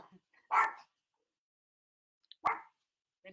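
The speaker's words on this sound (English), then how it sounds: "The dogs are here." Two dogs bark in short, sharp single yaps spaced about two seconds apart, close by in an otherwise quiet room, with a third bark starting just as it ends.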